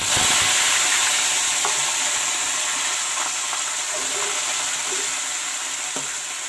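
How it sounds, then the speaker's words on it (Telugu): Fresh coriander leaves frying in a pan for a pounded chutney, a loud continuous sizzle and hiss close by with occasional light stirring clicks, no one talking. "బాగా వేగాలి"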